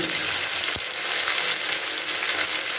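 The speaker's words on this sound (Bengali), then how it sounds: "টমেটোটাকেও একটু নাড়াচাড়া করে দেবো যাতে খুব ভালোভাবে একটু সেদ্ধ হয়ে যায় টমেটোটা" Tomatoes cooking and being stirred in a hot pan, a dense steady sizzle with one soft knock of the spatula.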